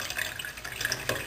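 Water runs steadily from a repaired faucet, a soft continuous splashing hiss with no voices.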